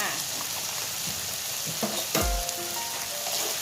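Stir-frying with pickled garlic and seasoning powder in a pan: a continuous close sizzle with a few clanks and scrapes of a utensil, and no talk.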